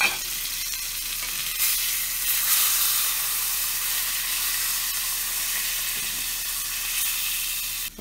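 A thick venison burger patty sears in a hot pan, giving a steady loud sizzle that swells briefly and then holds until it cuts off.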